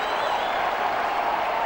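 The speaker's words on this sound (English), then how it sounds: "Schrock single-handedly drawing a standing ovation from the big crowd at the" Big crowd at a Coliseum hockey game giving a standing ovation during the CHL President's Cup Finals, a dense, steady wash of applause and cheering throughout, even and loud with no gaps.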